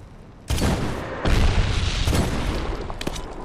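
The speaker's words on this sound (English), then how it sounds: "Mortar inbound." Heavy mortar rounds explode in the Medal of Honor video game: a series of loud, booming blasts land a second or so apart, each rolling into a dense rumble that overlaps the next.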